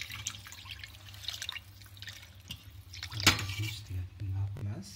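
Water is poured into a cooking pot for Hyderabadi chicken pulao with basmati rice, a short splashing gush with faint drips around it, moderately close.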